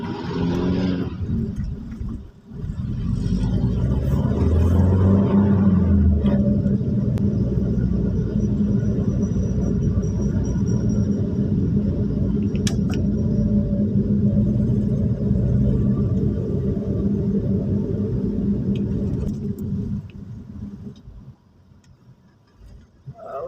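Vehicle traffic crawling through hospital grounds near a heart center: a steady, close low engine rumble that holds for about twenty seconds, then thins out near the end.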